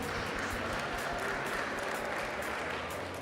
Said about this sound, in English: Can we have a short round of applause for our Season 6 MVP